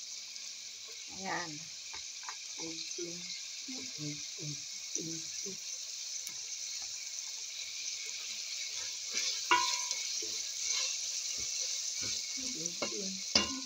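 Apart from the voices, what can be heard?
string beans added to sizzling pan with fish head adobo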